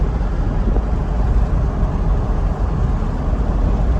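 A Chevrolet Corvette E-Ray rolling through a neighborhood on battery power alone, giving a steady broadband hum of tire and road noise inside the cabin with no engine note, continuous and fairly loud, no talking.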